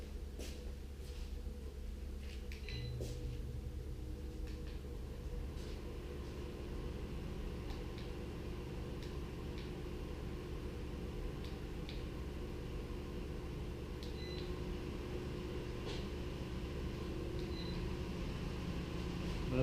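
Power Fist 400CFM air filtration system running at full power, a steady loud broadband whoosh of air with an even motor hum throughout, plus a few faint ticks.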